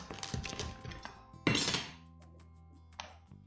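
A knife clinks and thunks against a baking tray while slicing through a baked kıymalı pide, a minced-meat Turkish flatbread. There are a few distinct close cuts, with one harsh scraping stroke in the middle, and no talk.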